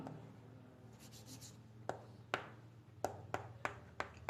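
A pen or marker taps and scratches in short, sharp strokes, quiet and close, as angle names are written out during a geometry proof.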